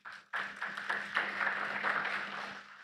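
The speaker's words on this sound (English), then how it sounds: "You can give yourselves a round of applause." A credit union summit audience at an opening ceremony breaks into applause, dense clapping starting abruptly and holding steady throughout, fairly close and full.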